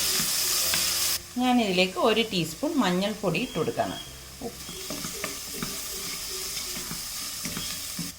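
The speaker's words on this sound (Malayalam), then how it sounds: "ഈ ഇഞ്ചിയും പച്ചമുളകും സവാളയും ക്യാരറ്റും എല്ലാം കൂടി ഒരുമിച്ചിട്ട് വഴറ്റി കൊടുക്കാം" Ginger, green chilli, onion and carrot sauté in a pan for wheat upma, a continuous close sizzle and hiss with stirring scrapes, heard under speech and then alone.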